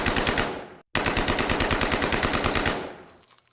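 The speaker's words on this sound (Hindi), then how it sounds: "AK-47 के 30 से ज्यादा राउंड्स फायर करे जाते हैं।" A long, loud burst of rapid AK-47 automatic fire rattles off in a steady rhythm, broken by one brief pause before continuing, then cutting off abruptly.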